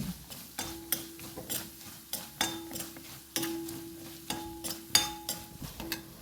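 Spice powders stirred and sautéed in a pan over low heat for a star fruit pickle, a steady run of light scraping and clinking strokes of the spoon against the pan.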